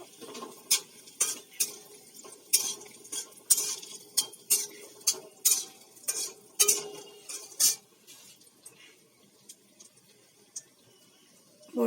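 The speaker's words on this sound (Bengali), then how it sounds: "বড়িগুলো ভালো করে ভেজে নেব।" Lentil dumplings (kalai dal bori) fry in a pan while a utensil stirs and scrapes them in repeated sharp bursts, with a faint sizzle underneath that fades quieter toward the end.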